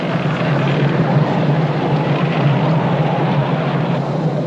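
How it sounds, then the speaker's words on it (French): The starboard engine of the ship Calypso in Antarctic waters drones steadily and loudly, a constant low mechanical hum that holds through the whole stretch with no talk over it. "Notre moteur tribord fait entendre des bruits inquiétants."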